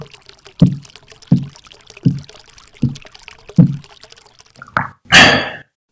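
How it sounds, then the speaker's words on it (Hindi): Someone drinks water in five slow, evenly spaced gulps, close and clear, followed by a short splashy pour. "उस बच्ची ने पानी ला कर दिया और वो प्यासी दादी माँ पानी पीने लगी।"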